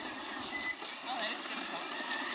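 Scale RC4WD 797F metal mining haul truck backing up, a small electric drive whirring steadily with faint beeping tones over a noisy background.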